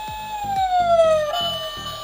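A close Tomica Town toy's electronic fire engine siren sweeps downward in a wailing tone over a repeating pulsed beat, loud and continuous throughout.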